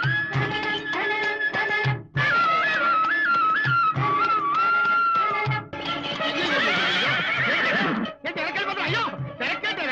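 Neighing of a white horse pulling a horse cart, heard several times among music and voices in a Telugu film scene, with people talking over it.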